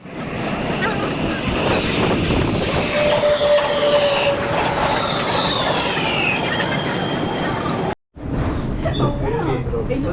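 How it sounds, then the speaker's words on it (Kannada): A metro train pulls into an underground station in Warsaw, Poland, with a loud rumbling roar, rising and falling squeals of wheels and motors, and a steady high whine before a brief cut, with voices talking beneath. "ನೋಡೋಣ, ನಮ್ಮ ಗಾಡಿ ಬರುತ್ತೆ, ಕಾಯೋಣ."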